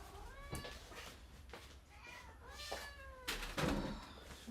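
A house cat meows several times in short, close calls, some rising and drawn out, over a low background hum. The cries are fairly quiet and there is almost no talk.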